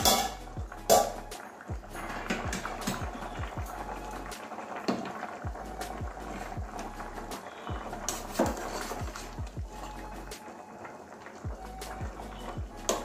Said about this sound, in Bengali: এবারে আবারও ঢাকনাটা খুলে দেখছি 3-4 মিনিট পরে